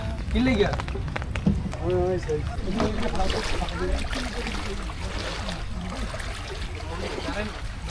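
A trawler boat motor drones steadily on the water while several people talk loudly over it throughout.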